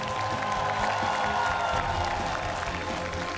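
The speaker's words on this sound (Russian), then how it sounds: "И это аплодисменты не только маэстро, но и уникальному коллективу, который он создал, Российскому роговому оркестру" Audience applause for the Russian Horn Orchestra and its maestro at a televised show: dense, steady clapping from a large crowd that holds at an even level for the whole stretch.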